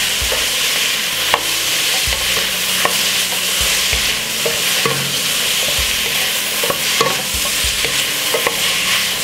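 Stir-fried cabbage with vegetable seasoning sizzles in a pan while a utensil stirs it, with repeated scrapes and taps over a constant frying hiss. No one speaks.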